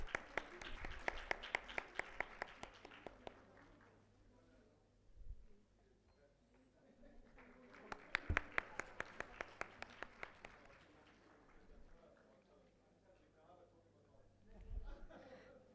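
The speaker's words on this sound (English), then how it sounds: "So a big round of applause." A round of applause at a university inaugural ceremony, with scattered hand claps swelling twice over murmuring chatter, then fading between bursts and returning faintly near the end.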